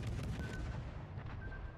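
Naval guns firing in World of Warships, a British cruiser battle: a steady, heavy rumble of repeated booming salvos, dense and loud with no clear gaps.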